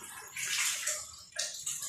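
Water gushing and splashing through a homemade 220-volt pump-fed water filter plant with two filter housings, a close, hissy rush that surges, briefly dips, then resumes.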